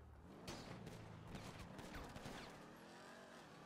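Video game gunfire in GTA V roleplay, rapid bursts of shots crackling over a busy in-game backdrop of engine and street noise, fairly steady and at a modest distance.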